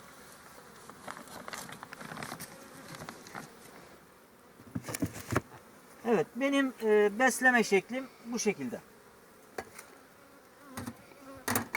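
Bees buzz steadily around a feeder, close and continuous, while a person speaks over them with a few knocks and taps.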